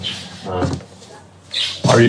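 A bird squawks twice, loud and close, with a harsh rasping call near the start and another near the end, separated by a quiet gap.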